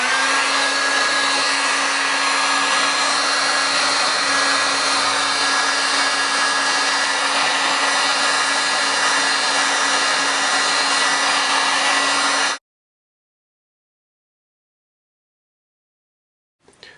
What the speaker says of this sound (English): the end cap is not going to quite fit on, so it needs to be softened with the heat gun.